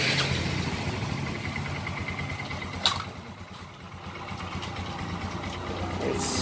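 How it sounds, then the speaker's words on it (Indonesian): Yamaha Xeon carburetor scooter engine idling steadily after being started, following a battery drop fix, with a close, even putter and a brief click partway through. "Motor sudah hidup."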